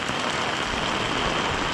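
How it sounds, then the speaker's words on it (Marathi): Heavy rain falling in a village, a dense, steady hiss and patter across the whole span, loud and continuous with no pauses. "पाऊस जोरात चालू आहे बघा, जोरात पाऊस आहे"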